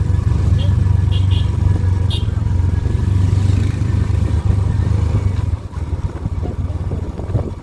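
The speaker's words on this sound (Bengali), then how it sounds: "গাড়ির ইঞ্জিন ব্রেকিং আছে তো।" A motorcycle engine drones steadily at low revs while engine braking downhill on a Darjeeling road, loud and close, with wind rumble and a few faint clicks, then the tone drops away.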